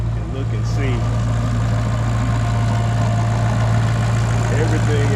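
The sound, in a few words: supercharged Audi RS5 engine idling after cold start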